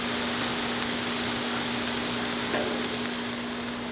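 Marinated pork chops sizzle on a grill with a steady, even hiss that holds close and constant from start to finish, and no one speaks.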